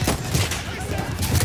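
Dense gunfire in the Battlefield 1 video game, a continuous barrage of overlapping shots and distant blasts filling the short stretch, with a voice partly underneath.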